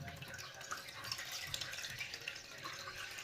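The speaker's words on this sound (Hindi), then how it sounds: "1 लीटर पानी डाल लेंगे।" One litre of water pours into a cooking pot on a lit stove for noodles, a steady, continuous splashing rush with no talking.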